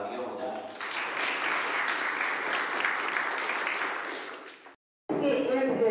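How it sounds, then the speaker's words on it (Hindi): Audience applause at a Mission Shakti women's event held at a college in Banda, steady clapping from a hall that cuts out briefly before a voice and louder clatter return. "मैं चाहता हूं कि उनके लिए एक बार तालियां हो जाए।"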